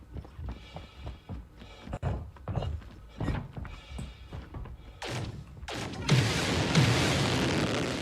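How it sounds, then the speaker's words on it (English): Gunfire and explosions in the space game Star Citizen, a run of dull thuds and booms at uneven intervals, swelling into a louder, noisy burst of blasts near the end. "people are definitely shooting right now at something"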